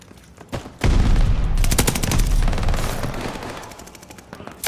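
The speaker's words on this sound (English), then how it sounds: "Enemy shells coming in hot." Incoming enemy shellfire in the video game Call of Duty: Vanguard: loud, dense rapid blasts and crackling bursts erupt after a brief lull and roar continuously to the end, fading slightly before a final burst.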